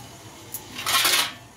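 A plate and cup are handled in a home kitchen, with a brief clink followed by a short, bright ceramic rattle and scrape, close and alone.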